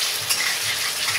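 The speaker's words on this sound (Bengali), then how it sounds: "তার জন্য আমি আলুটা ভেজে নিচ্ছি।" Potatoes frying in hot oil in a wok give off a steady, loud sizzle with no break, close up and with no voices.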